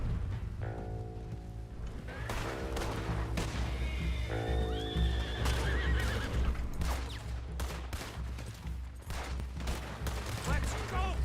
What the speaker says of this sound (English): Gotta get to the horses!